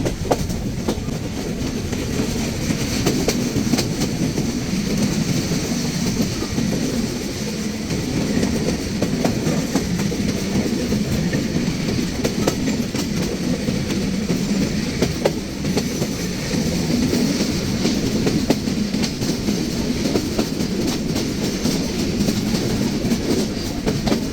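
The Chitra Express from Khulna to Dhaka runs on the rails in Bangladesh, heard from inside as a loud, continuous rumble with rhythmic clickety-clack of wheels over rail joints throughout.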